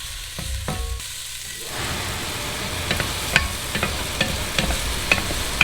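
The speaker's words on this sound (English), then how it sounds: "while the bacon is cooking" Steady crackling sizzle of bacon frying in a pan, with occasional sharp pops over a constant hiss, no talking.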